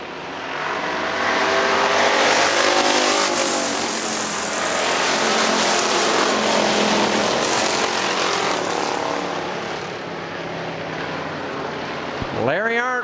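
Factory stock cars race around Hartford Speedway Park, a loud continuous roar of several engines passing close, with a sharp rising whine near the end and a public-address voice talking over the racing.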